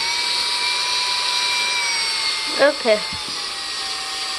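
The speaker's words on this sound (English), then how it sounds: "You fit the drill bit in and out." A power drill whines steadily as it widens a hole in a handmade brain slug prop from Futurama, a high continuous tone running throughout, with a brief spoken word near the end.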